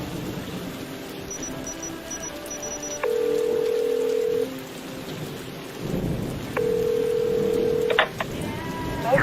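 A telephone number dialed, several clear keypad tones in sequence, the first around three seconds in and another after a pause, over a steady background hum.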